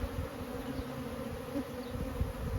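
Honeybees drone steadily around an open hive frame during a yard inspection, a close, continuous buzz with small swells and no talking.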